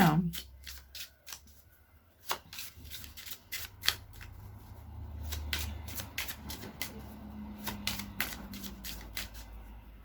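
Oracle cards being shuffled by hand, a steady run of sharp riffling snaps and soft sliding rubs, close and fairly quiet, with no talking.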